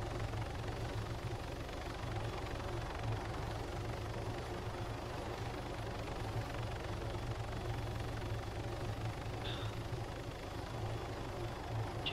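A helicopter in Arma 3 runs with a steady, loud engine drone and low rotor rumble that continues without a break. A couple of faint, brief clicks sound near the end.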